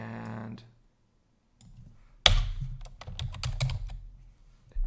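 Rapid typing on a computer keyboard at close range, an irregular burst of crisp key taps after a brief silence, with no speech.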